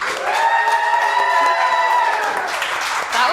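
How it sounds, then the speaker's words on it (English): A live podcast audience claps and cheers, a continuous burst of applause with whoops and raised voices, loud and close throughout. "let's hear a round of applause"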